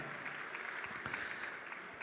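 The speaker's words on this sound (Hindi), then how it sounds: "आदरणीय श्री दीन दयाल जी गुप्ता का, आपकी जोरदार तालियों के साथ।" Audience at a Bharatiya Nav Varsh (Indian New Year) function applauding, a dense, steady wash of clapping from many hands lasting throughout, fairly close and even in loudness.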